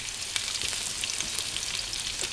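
Onion, green chili and tomato sautéing in a pan: a dense, even sizzle with fine crackles, close and steady for the whole stretch.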